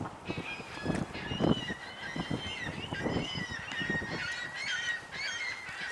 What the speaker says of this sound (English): Got a lot of seagulls.